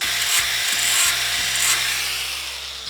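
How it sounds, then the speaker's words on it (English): Harsh, continuous grinding against a steel drill bit, a loud abrasive hiss with a rhythmic low pulsing as the bit is pressed and eased off. "grind some flats on here so I can get this bit in that drill"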